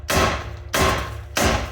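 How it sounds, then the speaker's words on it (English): Three heavy hammer blows strike a nut extractor on a rusted exhaust Y-pipe nut of a 2008 Infiniti FX35, evenly spaced about two-thirds of a second apart, loud and close with ringing metal. "I'll hammer on this nut extractor."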